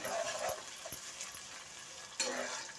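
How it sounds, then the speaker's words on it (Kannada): Chopped onions frying in a pan for vangi bath, a soft, faint sizzle with a few light clinks and scrapes of stirring, and one slightly louder stir near the end. "ಈರುಳ್ಳಿನ ಸೇರಿಸ್ಕೊಳ್ಳಿ. ಈರುಳ್ಳಿ ಎಲ್ಲ ಫ್ರೈ ಆಗಬೇಕು."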